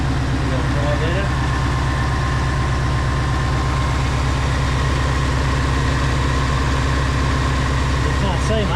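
Ford Mustang with a 5-litre V8 idling after a cold start, a steady low rumble close by that stays even throughout, with people talking over it.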